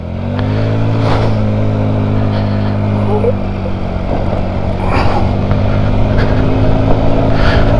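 Honda Scoopy scooter engine accelerating hard in a drag race against a delivery rider, a steady droning whine with layered harmonics that holds loud and close throughout, wind noise rushing over it.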